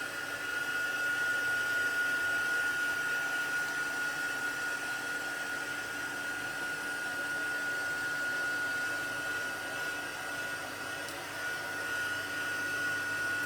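A hair dryer drying paper runs with a steady, continuous whoosh of airflow and a faint motor whine, moderately loud and unchanging for the whole stretch, with no talking.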